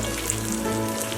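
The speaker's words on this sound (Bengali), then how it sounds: "একটু চেপে চেপে ভাজতে হবে" Rohu fish coated in garlic-chili paste fries in a pan with a close, continuous sizzle, and no voices are heard.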